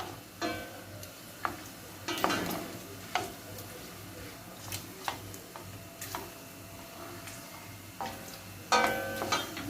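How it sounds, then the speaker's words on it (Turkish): Quiet sizzling of fat being roasted in a pan, with irregular metallic scrapes and taps of stirring, no voices. "Yağımızı kavurduk."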